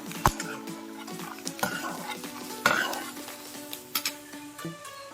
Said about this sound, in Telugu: ఇవి చిట్లీ బ్రౌన్ కలర్ వచ్చేదాకా వేయించుకోవాలి